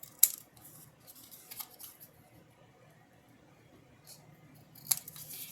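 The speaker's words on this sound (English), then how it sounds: "I'm going to fold this like this, and then I'm going to cut at an angle." Scissors cut folded paper at an angle for a craft gift box, giving a few sharp, faint snips spaced apart against a quiet room.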